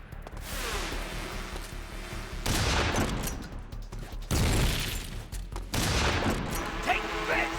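Rapid gunfire bursts from Metal Gear Solid 3, dense and continuous, with loud volleys recurring every second or two amid mechanical clatter and booms.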